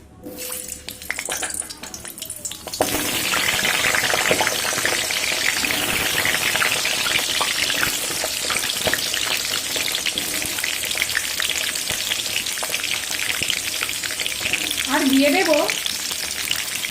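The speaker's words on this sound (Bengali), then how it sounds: "তেলটা গরম হয়ে এসছে এবার আমি সবজিগুলো ভেজে নেবো" Winter vegetables dropped into hot oil in a home kitchen burst into a loud, continuous sizzle that starts abruptly and holds steady, with faint stirring scrapes near the end.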